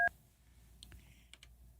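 Telephone buttons are pushed to dial a number, giving a few short, separate electronic tones and clicks spaced unevenly over a quiet background.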